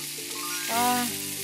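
Food sizzles on a grill during an outdoor camping cook, a steady frying hiss with a brief louder burst near the middle, close by and heard without talk.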